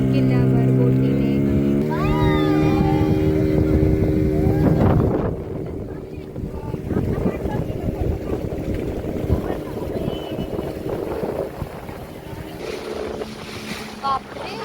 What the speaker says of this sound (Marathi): आम्ही चाललो किल्ल्यावर बोटीने